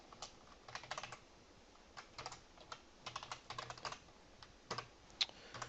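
Rapid bursts of typing on a computer keyboard while writing Python code, close and crisp with irregular clusters of keystrokes and short pauses, no voices.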